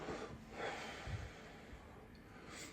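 Labored, heavy breathing from a person struggling for air, slow audible breaths with a snorting, wheezy edge, close and fairly quiet, with no talking.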